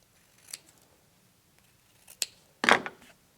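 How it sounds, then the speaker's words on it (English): Sharp scissors snip through soft ribbon tails in a few close, distinct cuts, with a longer, louder slicing cut near the end and quiet pauses between. "And then I will cut my tails here."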